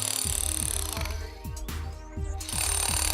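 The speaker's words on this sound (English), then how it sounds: "Continue to chisel in and down, approximately 25 mm above the chase, and allow the pieces to break away." Power chisel hammering into concrete to cut a rectangular chase for leak repair, a loud, rapid, continuous pounding with regular impact bursts that briefly softens midway before resuming at full force.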